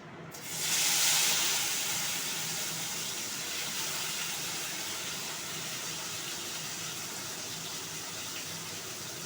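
Kochur loti (taro stolons) dropped into hot oil bursts into a loud sizzle that settles into a steady, even frying hiss lasting throughout.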